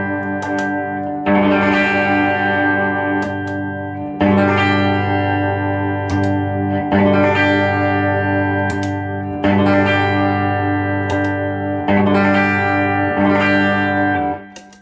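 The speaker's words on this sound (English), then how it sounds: "So I'll do one quick one clean with just those three pedals without the Muff" Electric guitar played clean through a chain of three effect pedals, a Tube Driver and Powerboost among them with no Big Muff, giving loud sustained strummed chords that ring out in five or six phrases, each restarted with a fresh attack.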